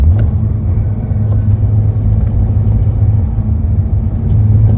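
Engine of a Subaru BRZ tS heard from inside the cabin during a heel-toe downshift from 5th into 4th gear, a steady loud low rumble and whir that keeps going without pause and has no talk over it.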